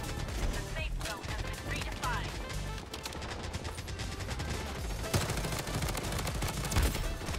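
Rapid MP5 submachine gun fire in the shooter Bloodstrike, dense bursts of shots over a busy game mix with music and effects, with a couple of louder bangs near the end.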